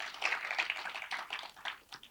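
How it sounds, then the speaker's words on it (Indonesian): A church congregation in Jakarta applauds during a worship service, a brief burst of many hands clapping in a steady, fairly quiet patter with no talking over it. "Tepuk tangan dulu buat Tuhan Yesus."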